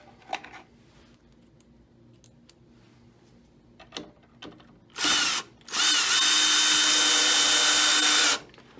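A power drill drives screws through angle shim wedge mounts into a board behind vinyl siding: light clicks and handling, then a short whir followed by a longer, loud, close run of the drill motor.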